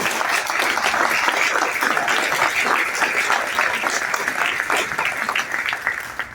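A large crowd at a political speech breaks into loud, sustained applause that holds steady throughout, with some cheering mixed in.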